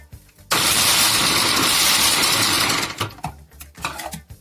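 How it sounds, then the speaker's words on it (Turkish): A loud, steady motorized whirring starts abruptly and runs for a few seconds, then breaks into choppy, uneven bursts as a food processor slices oranges and lemon. "Benim robotum yani dilim dilim dilimliyor."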